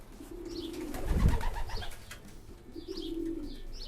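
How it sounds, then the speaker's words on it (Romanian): Racing pigeons coo close by in soft, throaty, repeated phrases, one deep swelling coo in the middle, set against low background noise with no talk. "Foarte frumoși porumbei"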